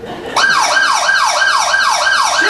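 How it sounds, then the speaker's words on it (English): Siren coming up behind a vehicle, starting abruptly and then wailing in a loud, steady rising-and-falling cycle that repeats about every third of a second, close and alone. "something that sort of sounds like a siren coming up behind us"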